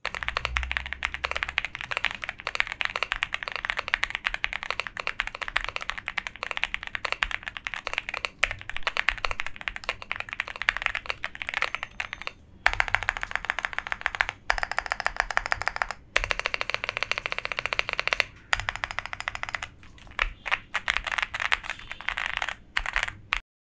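Close-up typing on a Leobog Hi75 keyboard fitted with Boba LT switches and Akko silent keycaps, a muted, dense patter of keystrokes with brief pauses, no talking.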